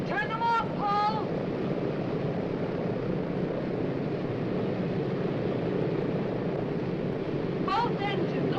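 Boat engines drone in a steady, continuous roar that fills the whole stretch, with brief shouted voices near the start and again near the end.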